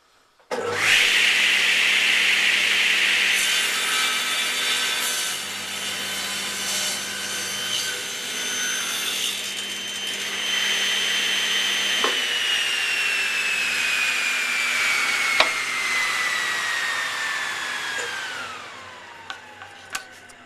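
A saw cuts through reclaimed timber with nails in it, a loud continuous whining grind that holds steady for most of the cut, then drops in pitch near the end as the blade winds down, with a few sharp clicks and knocks at the finish.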